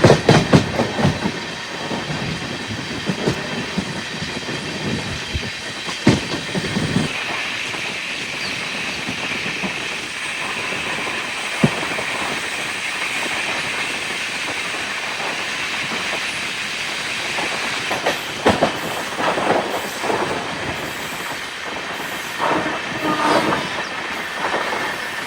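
The Kozhikode Jan Shatabdi Express with new LHB coaches runs along the Alappuzha route with a steady rolling roar and faint clickety-clack of wheels over rails. Occasional louder knocks and swells come through, and no voices are heard.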